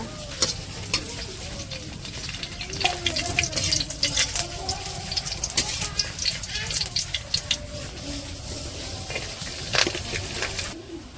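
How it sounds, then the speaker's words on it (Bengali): Chili peppers fry in oil for bhorta in a village kitchen. There is steady close sizzling with scraping stirs and clinks throughout, and faint talk underneath. "এই যে ভর্তার জন্য মরিচগুলো ভাইজে নিতেছে।"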